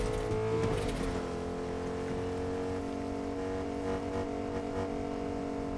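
A car in a video game climbs a staircase slowly, its engine humming steadily at a low, faint level with brief rising revs near the start.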